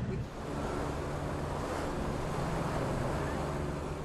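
Powerful ocean waves break on the jagged reef off Flint Island in the Pacific, a steady roaring wash of surf with wind buffeting the microphone.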